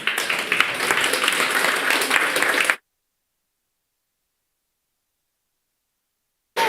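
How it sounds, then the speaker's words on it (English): Audience applause at a mental health meetup welcoming a speaker to the stage, a dense clatter of clapping for under three seconds that stops abruptly into silence, then briefly resumes at the very end. "let's welcome Kubo on stage with loud applause"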